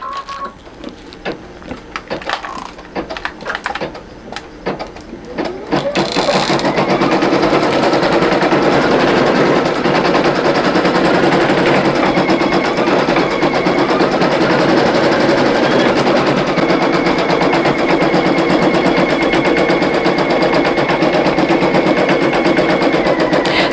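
Single-needle embroidery machine stitching orange freestanding lace for pumpkin earrings: rapid rattling needle strikes that settle into a loud, continuous, fast mechanical hammering up close.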